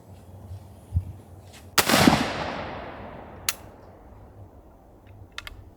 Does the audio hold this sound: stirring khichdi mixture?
no